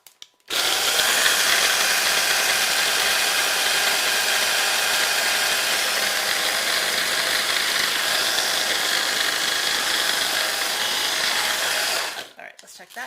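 A food processor crushes Oreo cookies into fine crumbs, a loud steady motor whir that runs unbroken for about twelve seconds before cutting off, close by with no talking over it.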